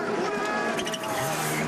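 A WRC rally car at Rally Sweden 2024 drives on snow with its engine straining and revving continuously, loud and close, with a brief dip in the middle.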